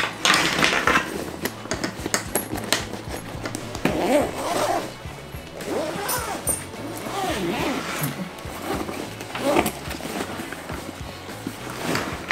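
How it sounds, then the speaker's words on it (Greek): A backpack zipper is drawn open in repeated close, raspy pulls, with handling clatter and rustle between strokes and someone talking softly over parts of it. "χρησιμοποιώντας αυτό το φερμουάρ,"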